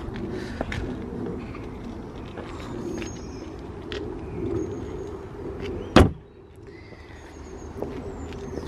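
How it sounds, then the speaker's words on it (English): A single solid thud as the bonnet of an Aston Martin DBS Superleggera slams shut, preceded by steady outdoor background noise, with a quieter ambience after. "let's just close that bonnet now"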